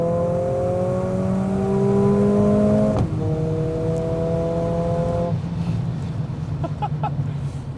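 A 2020 Mercedes-AMG CLA45, the entry-level AMG model, pulls hard on a freshly repaved road, its engine note rising steadily through the gears with a quick shift break midway, loud and close throughout.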